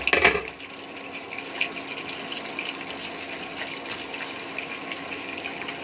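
Cornflour-coated french fries drop into hot oil with a brief loud splash, then settle into a steady, even hiss of frying that carries on without any talk.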